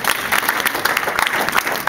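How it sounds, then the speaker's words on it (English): An improv show crowd claps steadily for two performers, a dense, close round of applause running throughout. "So let's get a round of applause for Sarah and Tara"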